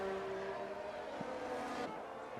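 Race cars lapping the Hungary circuit in a sim racing game, a faint steady engine whine with sustained tonal drone and slight pitch shifts, distant and low in level.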